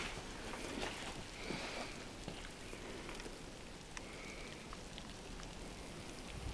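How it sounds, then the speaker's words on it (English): Steady rain patters on surfaces nearby at an abandoned soldiers' house, a constant hiss of drops with occasional louder splashes, no voices. "it's just started raining."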